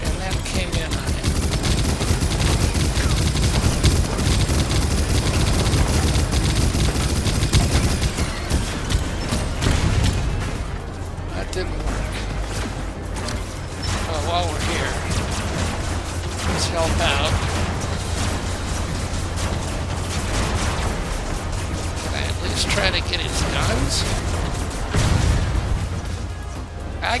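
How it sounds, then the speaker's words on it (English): SMG fire pours from a flying copter in the vehicle-building game Robocraft, a long, loud, continuous stream of rapid shots over a whirring mechanical hum, with someone talking at times. "Got him with the SMGs."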